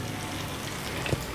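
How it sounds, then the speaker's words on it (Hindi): Chopped onions sizzle in hot desi ghee for dal tadka, giving a steady, close frying hiss with one small pop near the end. "तड़का में सबसे पहले हम इसमें ऐड कर देंगे प्याज"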